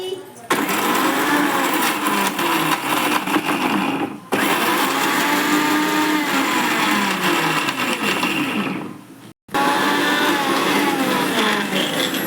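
A kitchen mixer grinder grinds coconut into fine flakes, a loud continuous whirring roar running in long bursts with brief pauses between them.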